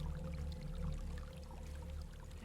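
A waterfall in the video game Hellblade: Senua's Sacrifice, a faint, steady rushing and pouring wash of water with a low rumbling undertone and no voices.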